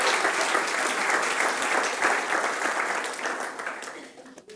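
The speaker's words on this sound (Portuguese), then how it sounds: "dê um aplauso forte para o Senhor Jesus" Loud, sustained applause from a large church congregation indoors, steady clapping that gradually fades out toward the end.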